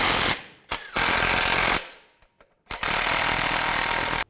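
A power tool, likely an impact wrench, fires rapid hammering bursts while tightening engine mount bracket nuts on a 2006-2011 Cadillac DTS: two longer runs and a short one, separated by brief pauses and small clicks.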